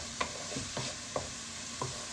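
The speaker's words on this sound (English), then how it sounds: "So we'll just keep on caramelizing the onions." Onions caramelizing in a pan, a faint steady sizzle with four soft spatula scrapes spaced through a brief quiet moment, no talk.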